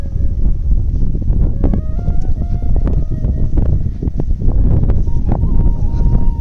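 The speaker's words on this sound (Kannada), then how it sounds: "ತುಂಬ ಗಾಳಿ ಬೀಸ್ತಾ ಇದೆ" Strong wind on a hilltop buffets the microphone in a continuous loud, low rumble with gusty surges throughout, plus faint tonal hums and scattered clicks in the background.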